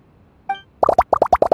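In the Genshin Impact video game, lizard tails, fish scales, mucus and slime condensate drop into a drink as a quick run of about eight wet, bubbly plops, coming after a short tonal chime.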